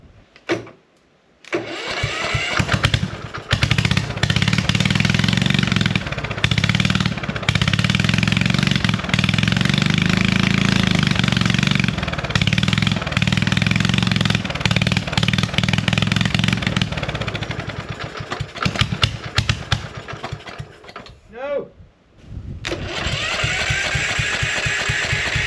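A Husqvarna CT151 ride-on mower engine, its throttle recently adjusted, runs loud and steady for most of the stretch, briefly dips and sputters near the end, then picks back up.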